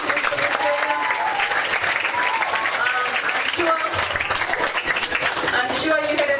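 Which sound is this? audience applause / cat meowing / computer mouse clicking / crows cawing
audience applause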